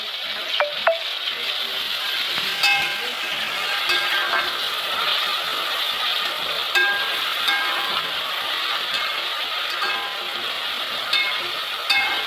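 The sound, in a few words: green peas frying in oil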